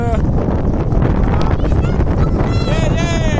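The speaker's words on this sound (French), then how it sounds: "il y a un vent à déformer les bœufs" Strong wind gusting across a lake, loud buffeting roar on the microphone throughout, with faint voices and some whistling tones mixed in toward the end.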